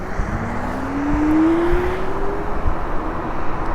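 A Segway GT1 electric scooter accelerating from a standstill at full throttle, its motor whine rising steadily in pitch over a constant rush of wind noise, close and fairly loud.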